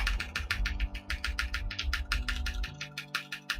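A computer keyboard is typed on steadily while a Minecraft Pokémon game plays, giving close, rapid clicking keystrokes over a low background hum.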